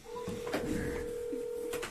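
A phone ringing out on a live call-in to a friend late at night, heard as a steady electronic tone held for most of two seconds under room noise and brief murmurs.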